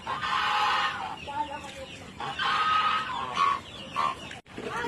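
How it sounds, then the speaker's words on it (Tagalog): Chickens clucking in bursts, with some longer drawn-out calls among the clucks, fairly close, over a quiet farmyard background. "Ito yung mga manok namin"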